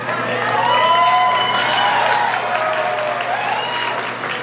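Audience at a PechaKucha event claps steadily and warmly, full applause swelling early and tapering slightly with a few scattered cheers mixed in.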